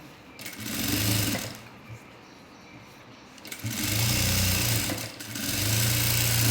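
A sewing machine stitches a puff sleeve in close, loud bursts of rapid whirring, two long runs separated by a quieter pause, with no speech.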